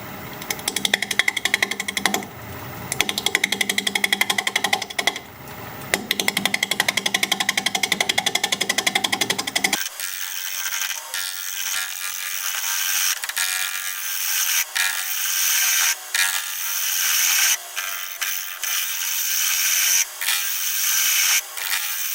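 A wood lathe spins a wooden bowl at about 700 RPM while a 1/2 inch bowl gouge cuts it. The turning starts as a rough, chattering grind, then switches abruptly to a thinner, hissing scrape with steady ticking, loud and close.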